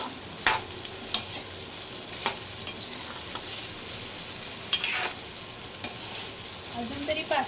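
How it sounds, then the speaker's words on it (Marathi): Okra (bhindi) frying and being stirred in a pan in a home kitchen, a steady soft sizzle with scattered light scrapes and clicks of a spatula, no voices. "थोडी भेंडी भाजून घेऊया"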